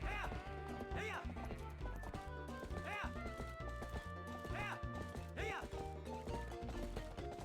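Epona gallops in Zelda: Twilight Princess, rhythmic hoofbeats running steadily under game music, with several whinny-like cries rising at intervals; someone talks over the clip.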